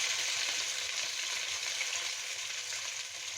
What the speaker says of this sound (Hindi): ऑयल हमारा गर्म हो चुका है। अब भिंडी को हम ऑयल के अंदर शामिल करेंगे।